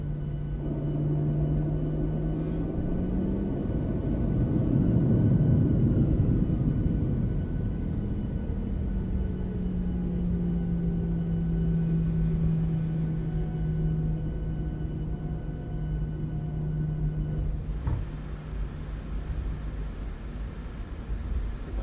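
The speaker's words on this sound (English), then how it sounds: "Have to taxi all the length of runway 8 all the way back to the gates." A PMDG Boeing 737 taxis in Microsoft Flight Simulator 2020, a steady low engine rumble and whine with slowly shifting tones, swelling slightly then settling, continuous and without voices.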